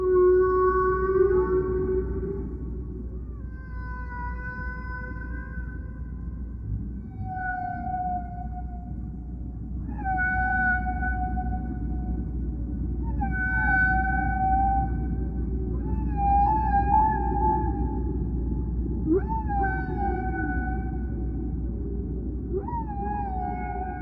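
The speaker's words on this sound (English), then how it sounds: "They produced an album of songs they recorded from critically endangered humpback whales." Humpback whale song from a critically endangered population, recorded underwater: long rising and falling moans and whoops repeat in phrases over a steady low rumble, with no voices.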